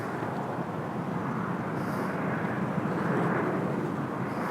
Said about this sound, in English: so that's why we can hear a helicopter